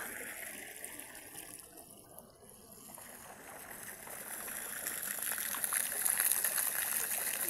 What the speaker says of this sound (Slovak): Tu sú takéto rúrky, z ktorých ide potom voda.